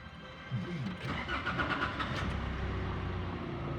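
A Nissan Navara D40 diesel engine cranks briefly and catches after a suction control valve repair, then settles into a steady, close idle. A voice is heard over it.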